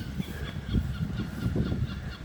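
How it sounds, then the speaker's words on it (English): Seagulls beside a river in a Scottish town give off repeated harsh, honking calls at a moderate distance, overlapping over a constant outdoor background murmur. "Seagulls everywhere."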